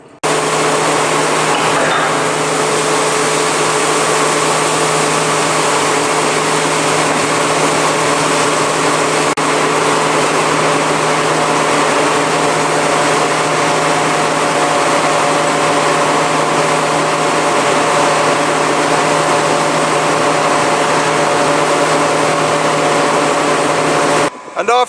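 A farm tractor engine running steadily while a trailer is hitched for a barley harvest: a loud, continuous droning hum with a constant pitch that holds unbroken for the whole stretch before cutting off at the end.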